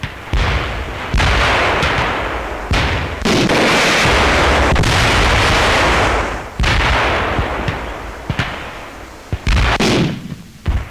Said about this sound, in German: Gewehrgranaten.